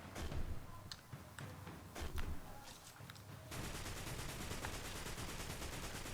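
Rapid bursts of gunfire in the mobile game Destiny Rising, a few sharp volleys early on, then a dense continuous rattle of automatic fire that fills the second half.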